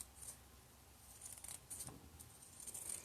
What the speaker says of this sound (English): I took my pinking shears and went around the edge just a little bit